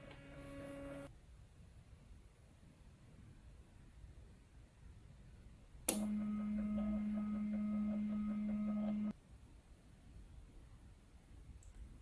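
An electrolyte analyzer prints its calibration result: a steady, faint printer whir runs for about three seconds after a click, with quiet room hiss around it and a brief tone at the start.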